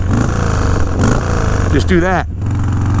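A 1984 Harley-Davidson FXRP big twin engine runs loud and close through its exhaust with a steady rumbling idle, while someone talks over it for most of the time.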